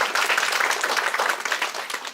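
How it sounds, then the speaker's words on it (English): Continuous clapping from an audience at an international conference's inaugural address, a dense, even patter of hands that holds steady and then tapers slightly at the end. "A hand of applause, please."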